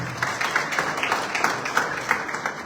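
Audience applause at an event at the Embassy of Zimbabwe in Namibia, dense steady clapping from a crowd lasting the whole moment with no talk over it.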